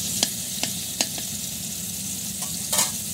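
Pangas fish fry in a pan with a continuous crackling sizzle, close and moderately loud, punctuated by several sharp stirring clicks and scrapes spaced through the short stretch, with no talking.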